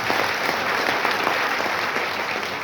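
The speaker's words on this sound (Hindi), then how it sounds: "एक बार जोरदार ताली आपने" Loud, dense applause from a hall audience at a talk or meeting, a steady wash of many hands clapping throughout with no pause.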